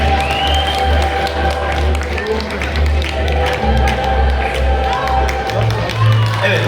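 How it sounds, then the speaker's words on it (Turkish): Audience at a sports club awards night applauding young champions as they return to their seats, a continuous loud clatter of many hands with a low hum beneath and no pause. "sizleri de alkışlarla yerlerinize uğurluyoruz arkadaşlar"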